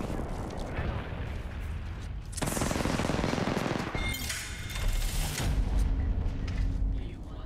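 Rapid gunfire from a video game shooter, dense bursts and volleys continuing throughout at steady loudness, with busy game effects layered underneath.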